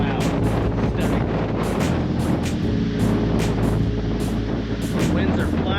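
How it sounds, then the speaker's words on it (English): Strong coastal wind at Cape Disappointment in southwest Washington, a loud steady roar buffeting the microphone with gusty thumps throughout, while a person talks over it. "The winds are blasting this place."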